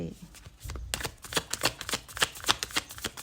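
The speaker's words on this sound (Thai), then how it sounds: "กรีบไพ่" Tarot cards being shuffled close up, a brief soft handling noise followed by a fast run of crisp riffling flicks and snaps, loud and steady, without talk.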